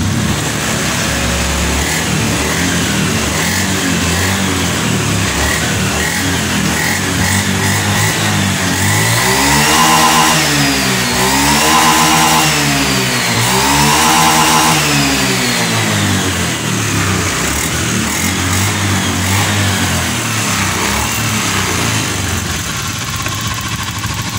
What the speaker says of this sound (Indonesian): Ini stasioner Pak ya. Kita coba tarik tuas gasnya dengan perlahan.